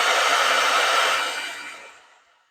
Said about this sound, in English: I hit that with the heat gun and it dried pretty quick